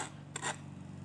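An edging tool scrapes along the edge of a driveway, giving one short gritty rasp under a steady low hum.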